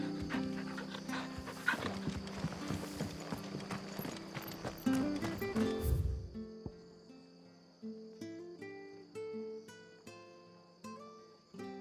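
A dog in the video game Final Fantasy XVI pants in quick rhythmic breaths over clopping hooves and game sounds for about six seconds, then soft chiming music carries on without it.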